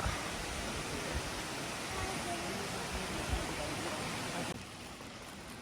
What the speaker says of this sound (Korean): 폭포에 왔습니다